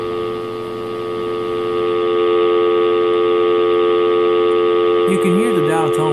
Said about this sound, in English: You can hear the dial tone perfectly